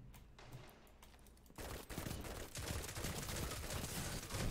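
Rapid pulse rifle fire from the Destiny 2 video game crackles in dense bursts, quieter at first and then louder and continuous, with no voices over it.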